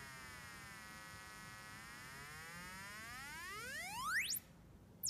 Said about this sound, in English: It adjusts the tone of the 555 timer.